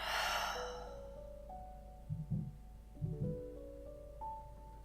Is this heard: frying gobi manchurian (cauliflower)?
no